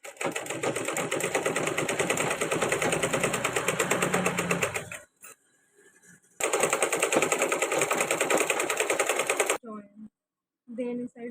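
Sewing machine stitching a baby frock, running in a loud, fast continuous burst for about five seconds, stopping briefly, then running again for another few seconds before a pause with a few faint sounds.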